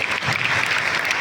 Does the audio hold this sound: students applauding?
yes